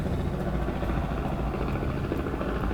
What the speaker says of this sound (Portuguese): Olha o helicóptero voando aqui.